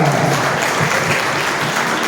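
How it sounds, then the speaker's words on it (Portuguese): Loud, dense applause from a church congregation fills the space, a continuous roar of many hands clapping at once. "Agora eu convido toda a igreja a dar a mais forte salva de palmas ao Senhor Jesus."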